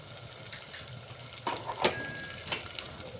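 Spice masala with turmeric, kasuri methi and salt fries in a pan for a stuffed brinjal dish, a steady close sizzle broken by a few louder scraping stirs.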